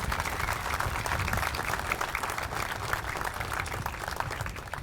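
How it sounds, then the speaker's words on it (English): A crowd at a grand opening event applauds the sponsors with steady, loud clapping that holds evenly throughout, with no speech over it. "How about a big round of applause for the sponsors?"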